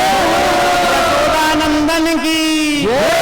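Crowd at a Bhagwat Katha gathering roaring a loud, drawn-out jaikara victory cheer, many voices merging into sustained shouting with wavering pitch, close and strong throughout.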